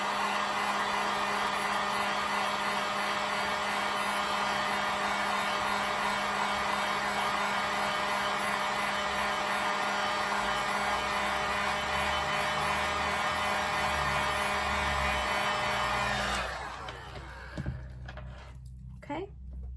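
A hair dryer blows steadily on watercolor paint for about sixteen seconds, a loud continuous whir, then cuts off and winds down, leaving faint handling noises.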